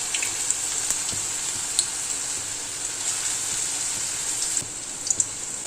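Coated potato fries deep-fry in hot oil with a steady, close, bright sizzling hiss and occasional small pops and crackles, continuous from start to end, with no voices.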